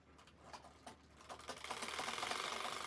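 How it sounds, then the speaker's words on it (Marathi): Sewing machine stitching the corners of a patchwork bag, starting with a few slow ticking stitches that speed up into a steady rapid whir, close and moderately loud. "आता ह्या बॅगचे पण कोपरे मी शिवून घेणार आहे साईडचे"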